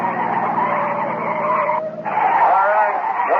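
In a radio drama sound effect, police cars skid to a stop: loud, sustained tire squeals over revving engines, shifting pitch and wavering toward the end.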